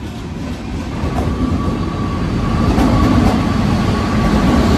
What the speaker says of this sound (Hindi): फाइनली प्लेटफॉर्म नंबर 2 पर हमारी जनशताब्दी एक्सप्रेस आ चुकी है।